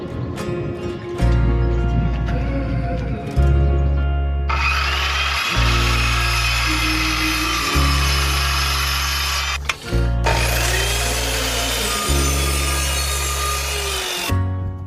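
Power drill driving thin screws into wood during a kitchen build in Greece, with repeated loud whirring bursts of a few seconds each, separated by short pauses, close by and with no talk.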